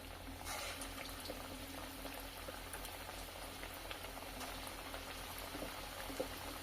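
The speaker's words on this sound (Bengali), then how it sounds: "চুলায় কড়াই বসিয়ে তেল গরম করে নিয়েছি। এরপর একে একে আমি এই পেঁয়াজিগুলো ঠিক এইভাবে দিয়ে দেব।" Onion fritters (peyaji) frying in hot oil in a wok, a steady, even bubbling hiss that runs without a break at moderate, close level with no voices.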